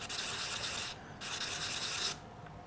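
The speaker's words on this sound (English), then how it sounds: "I'm just doing it very lightly, rotating it, rubbing it through" Light circular rubbing on a part of an HB Racing D8 World Spec 1/8 competition RC buggy, two steady scratchy passes with a brief pause between, close and quiet, no talking.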